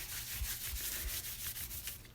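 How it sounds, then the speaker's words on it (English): Baby wipe rubbed firmly across a napkin collage on a 12x12 journaling card, giving a steady close scratchy swishing with repeated back-and-forth strokes and no talking. "take a baby wipe and wipe"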